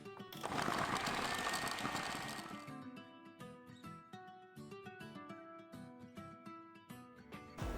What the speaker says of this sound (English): stick them into the food processor